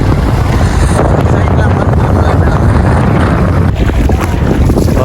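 A bus and other vehicles push through floodwater covering a road in Valvettithurai, Jaffna, after heavy rain. A loud, continuous rush of churning water and wind buffeting fills the clip, with a voice talking over it.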